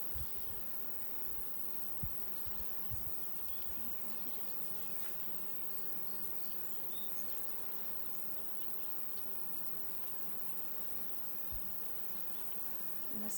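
Honey bees buzzing on a hive frame during a beekeeping field inspection: a faint, continuous swarm drone holds throughout, with a few soft knocks and handling sounds near the start.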